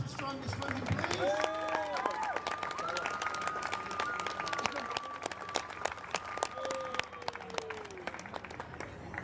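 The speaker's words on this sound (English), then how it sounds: "A big round of applause for Yorkshire's strongest women, please." An audience applauds at a strongwoman competition, steady clapping with some cheering that carries on through the whole stretch while a voice speaks over a loudspeaker.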